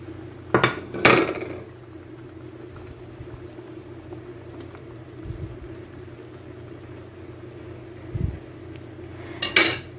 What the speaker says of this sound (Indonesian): ini sudah mendidih, masukkan kentang dan telur